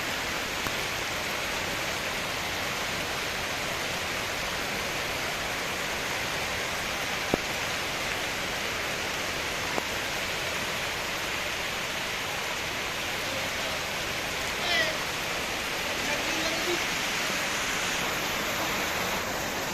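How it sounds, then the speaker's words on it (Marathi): Heavy monsoon rain in Junnar, Pune district, pours down as a dense, constant hiss, with a few faint drips and small clicks standing out briefly. "जुन्नरच्या बऱ्याचशा पट्ट्यामध्ये पाऊस चालू आहे"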